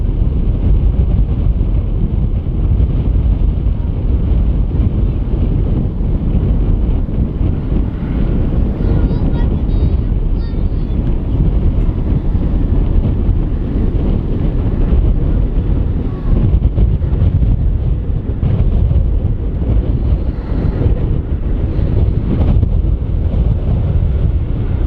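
Strong wind buffets a camera outdoors at Manchester Airport, a loud, constant low roar and rumble of wind against the microphone that fills the whole stretch.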